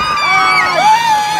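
A crowd of children at a country show cheers and shouts in overlapping high, loud whoops and yells, continuous and close.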